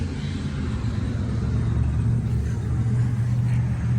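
Chevy 2500HD with a Flowmaster 40 series muffler gives a steady, deep, low exhaust rumble at moderate volume with no talking.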